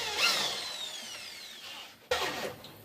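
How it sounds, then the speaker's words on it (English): A power drill fitted with a countersink bit whirs as it spins up and bores into wood, winding down and then biting again in a second short burst, close and alone. "you're going to take a drill with a countersink, or a drill in a larger drill bit to countersink it"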